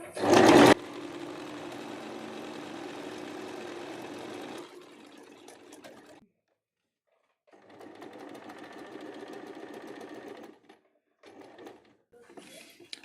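A sewing machine stitches a kurti in bursts of steady whirring, running for several seconds, pausing in silence, then starting again, close and fairly loud with little talk.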